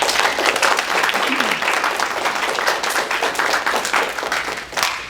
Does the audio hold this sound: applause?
yes